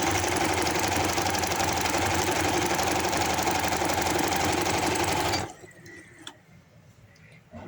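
A sewing machine runs steadily and loudly for about five seconds, stitching a folded half-inch hem on a handkerchief baby frock, then stops abruptly, leaving quiet room sound with a few small clicks.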